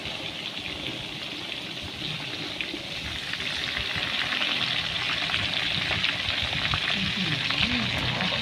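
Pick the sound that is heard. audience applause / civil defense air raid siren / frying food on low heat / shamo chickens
frying food on low heat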